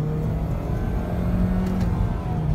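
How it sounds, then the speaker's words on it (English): Manual Saab 9-3 car downshifting from third to second, with a steady engine drone and drivetrain hum that stay loud and continuous from inside the cabin and show no clear break in pitch. "when I try and downshift from third to second here"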